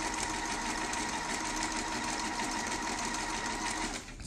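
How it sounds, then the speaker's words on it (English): A sewing machine runs steadily, stitching a half-inch seam on a structured, lined sleeve lining at fast speed, with a continuous close mechanical whir that eases off just at the end. "So the first thing I'm going to do is stitch this with a half an inch seam allowance."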